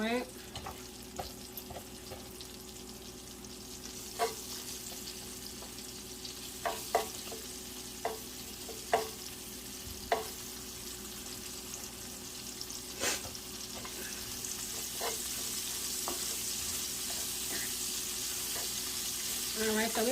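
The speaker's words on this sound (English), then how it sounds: "we're gonna cook our onions up some" Sliced onions fry in a pan with a quiet, steady sizzle, punctuated by scattered clicks and scrapes from stirring, and the hiss grows a little louder toward the end; no voice is heard.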